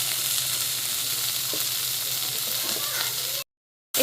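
Bitter flowers frying in a pan as they are stirred: a loud, continuous close sizzle with soft spatula movements, which cuts off abruptly near the end.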